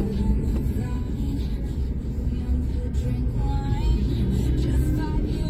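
Truck on a toll road in North Sumatra, heard as a steady low rumble of road and engine noise from inside a following car, continuous and fairly loud.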